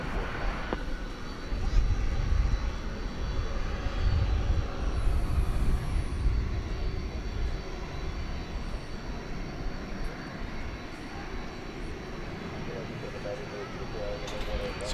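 Jet airliner taking off at night at DFW Airport, a deep engine roar swelling early and slowly fading into the distance, with someone talking over it.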